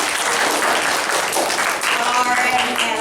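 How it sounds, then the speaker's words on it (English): A game show studio audience applauds a contestant with loud, continuous clapping that stays full for the whole stretch, with a hint of crowd noise mixed in. "Let's get a big round of applause for Hannah"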